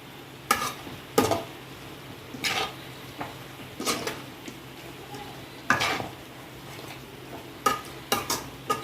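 Pepper chicken gets stirred in a pan, a spoon scraping and knocking against the metal in irregular clicks and scrapes over a faint sizzle, close by and without talk.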